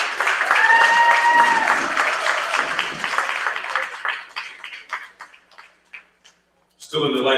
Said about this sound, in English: Another round of applause for Nur Muhammad,